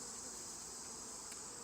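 A dense, even hum of honey bees fills a hive being inspected, a continuous close buzzing with no breaks or talk.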